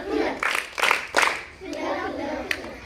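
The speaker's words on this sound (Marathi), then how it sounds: "त्यांची टाळी देऊया आपण त्यांना" Children clap together at a Saturday school activity, a few quick rhythmic bursts of hand claps close by, then a softer murmur and one last clap.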